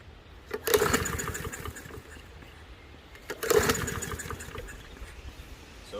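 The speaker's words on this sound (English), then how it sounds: "I'm just going to show you that this motor at this point in time is not starting" Two pull-start attempts on a push lawn mower that sat unused for over three years, each a sharp rope yank followed by a brief sputtering engine turnover that dies away without catching.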